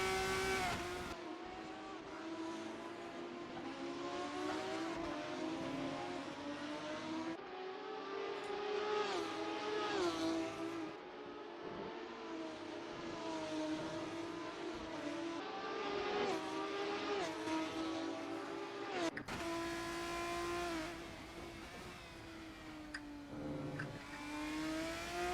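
F3 race cars in a racing video game at the Montreal circuit, engines whining and revving continuously as cars fight for position, with shifting pitch and a sharp change near the end under faint background mix.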